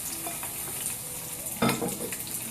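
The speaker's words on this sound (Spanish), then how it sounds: "vamos a poner en un sartén aceite y cuando está caliente" Onion fries in hot oil in a frying pan, with a steady close sizzle, a few light stirring scrapes and a sharper burst of crackle partway through.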